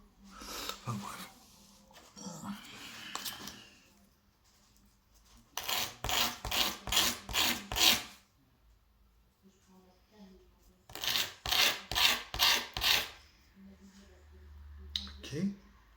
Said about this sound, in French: Le petit coup de ponçage